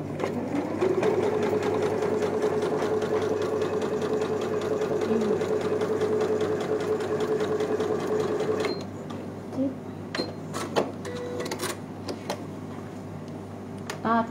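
A home sewing machine runs in a steady whirring drone for about nine seconds while stitching fabric pieces together for patchwork, then stops, leaving a few faint clicks and handling taps.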